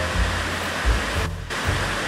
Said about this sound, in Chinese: 南安瀑布啊